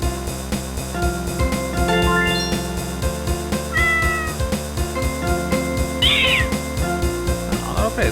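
A kitten in the Horace video game meows repeatedly over a steady, rhythmic musical backing, its plaintive cries rising clearly above the beat.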